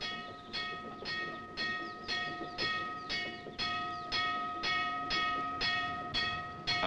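A freight train rolls past with a steady, rhythmic clatter of wheels over rail joints, repeating roughly every half second, with a sustained mechanical tone underneath.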